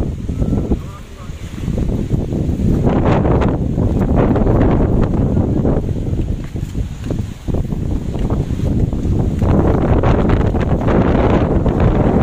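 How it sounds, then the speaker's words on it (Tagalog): Strong, steady sea wind on Boracay buffets the microphone with a loud, continuous low roar, and people talk intermittently beneath it. "Ang lakas kasi ng hangin"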